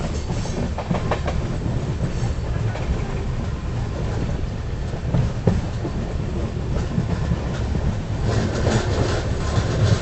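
Andhra Pradesh Express passenger train running between Visakhapatnam and New Delhi, a steady close rumble of wheels on rails with faint rhythmic clickety-clack continuing throughout.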